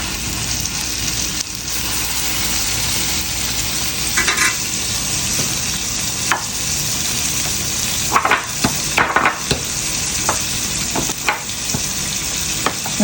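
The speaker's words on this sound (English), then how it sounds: "Look how fast the steak is cooking." Steak frying in a pan, sizzling steadily with a bright hiss throughout, close up, broken by a few sharp crackles and pops toward the end; no one speaks.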